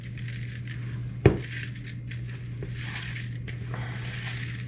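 A cup of rice is mixed by hand into a dish, giving soft gritty rustling and crunching with one sharp clack against the bowl early on, over a low steady hum.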